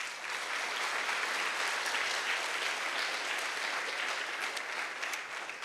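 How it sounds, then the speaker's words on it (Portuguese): A congregation at an evangelistic crusade gives a round of applause, a thick, even roar of clapping that holds steady and loud for the whole stretch. "Dá uma salva de palmas para Jesus."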